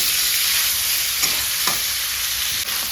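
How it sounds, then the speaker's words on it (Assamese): Pork pieces fry in hot oil for a pork curry, a loud, dense and continuous sizzle up close with a couple of faint stirring scrapes. No talking. "মাংসখিনি দিলৈ ধুনীয়াকৈ ভাজি আছোঁ"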